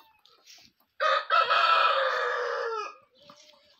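Chickens at a family farmyard: one loud, close rooster crow lasting about two seconds, with a few softer clucks scattered before and after. No one speaks.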